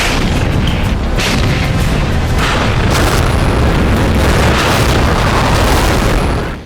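Chinese army artillery fire during a war rehearsal on the Tibetan plateau: a dense barrage of loud, overlapping booms and blasts rolling on continuously for several seconds, with no talking.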